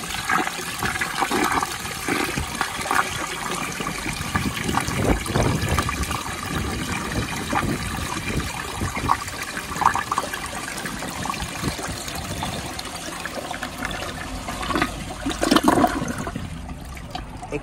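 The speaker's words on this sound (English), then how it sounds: "I'm gonna give it a flush, but it's gonna be flushing as a side little flusher." A 2002 Vitromex Marathon toilet flushes through its side jet: a continuous loud rush of water swirling and draining for well over fifteen seconds, steady throughout, with no voices.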